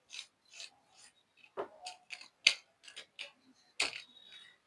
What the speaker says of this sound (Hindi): और फिर इसे हम ब्रश से झाड़ लेंगे।